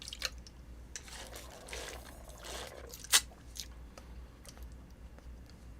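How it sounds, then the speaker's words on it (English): Water is sipped from a pill bottle, soft swallowing and gulping sounds close up, with one sharp brief clack partway through and quiet room tone around it. "Just drinking water right now."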